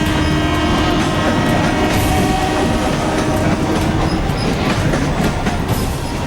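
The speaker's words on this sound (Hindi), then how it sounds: "Lifeline local train Vikhroli platform से रफ्तार पकड़ चुकी है।" Mumbai local train pulling away from Vikhroli platform, a loud, continuous rumble with steady rail clatter and screeching metallic overtones throughout, no voices.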